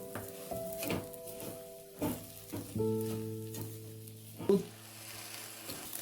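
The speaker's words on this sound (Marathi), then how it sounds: "मिश्रण चांगल्या प्रकारे हलवून घ्यायचे आहे" Spoon stirring a bread pudding mixture of milk and sugar in a pan, soft scraping and sizzling sounds with occasional sharp clinks against the pot over a low steady hum.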